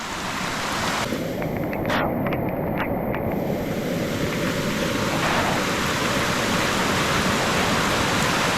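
Flood water rushes loudly through a forest stream after a rainstorm, a dense, continuous roar of churning water close by, steady throughout with a brief scraping disturbance near the start and no speech.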